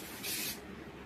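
Hair spray from an aerosol can mists onto a pulled-up hairstyle in one brief, close hiss lasting about a third of a second, then stops.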